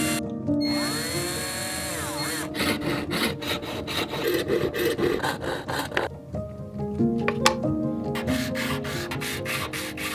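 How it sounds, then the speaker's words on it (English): Handheld jigsaw cutting through a wooden board, sounding as a steady buzzing, rasping cut that runs almost the whole time with short stops and restarts and shifts in pitch. No one speaks. "a piece of wooden board, which I cut with a handheld jigsaw."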